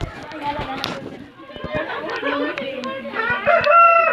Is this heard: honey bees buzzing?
no